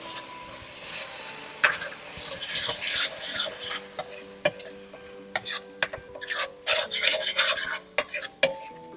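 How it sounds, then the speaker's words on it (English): Spices stirred in a pan while cooking millet rajma, chili powder and garam masala among them, giving soft scraping and rasping strokes with occasional light clicks of the spoon against metal. "I'm going to quickly give this a mix."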